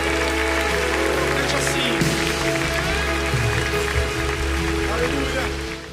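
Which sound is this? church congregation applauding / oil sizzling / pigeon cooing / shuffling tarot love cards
church congregation applauding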